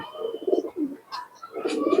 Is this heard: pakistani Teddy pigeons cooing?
yes